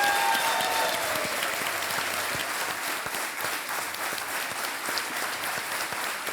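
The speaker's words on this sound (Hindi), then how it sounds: "और तालियां बज जाएं इनके लिए।" Sustained studio audience applause on a Hindi quiz show set, dense steady clapping filling the room for the full stretch without talk over it.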